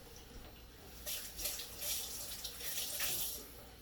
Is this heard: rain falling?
no